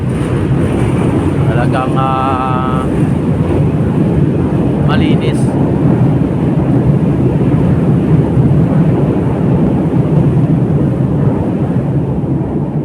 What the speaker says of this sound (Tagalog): Dumaan ang LRT mga bayan